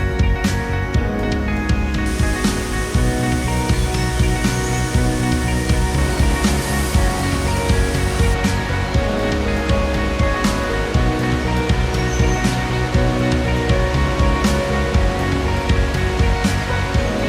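The Ceurace Embun waterfall in Indonesia roars steadily as water crashes down, a loud, unbroken rushing wash that holds constant throughout with no voices.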